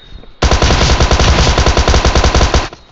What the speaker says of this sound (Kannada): ಇದು ಶಾರ್ಟ್ ಗನ್ ಬಿರ್ರಂತ ಇಟ್ಟೆ